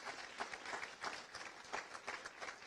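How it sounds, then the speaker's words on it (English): Audience at an award ceremony applauding the honorees, a faint, distant patter of many hands clapping in an irregular, sustained burst. "Now let us give all of our colleague honorees a resounding applause."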